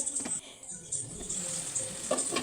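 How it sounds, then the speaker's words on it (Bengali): Potato and cauliflower being stirred and fried in a pan, a steady soft sizzle broken by scraping stirs, close and moderately quiet. "এখন আমি ফুলকপিটা ভালো করে নেড়ে চেড়ে কষিয়ে নেব"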